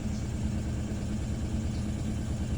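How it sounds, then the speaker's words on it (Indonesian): A car engine with idle-control and O2 sensor fault codes idles steadily around 1100 RPM just after its first start, a continuous even drone with no speech. "Oke, 1100 RPM, mesin baru pertama kita hidupkan."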